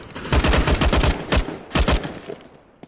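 Rapid gunfire in Counter-Strike: Global Offensive, a dense burst of automatic shots followed by a second shorter volley, loud and close with no talking.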